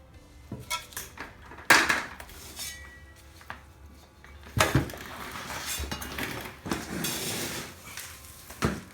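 Loose pumice granules rattle and clatter into a bonsai pot fitted with a bottom screen, laid in as a drainage layer, in a few close gritty pours with sharp scraping bursts.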